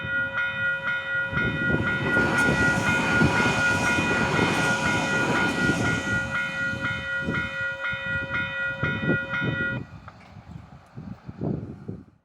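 New AM class electric multiple unit, built in Mexico, at a brand-new New Zealand railway station, with a sustained whining motor tone over rolling rumble that cuts out near the end, leaving quieter bumps.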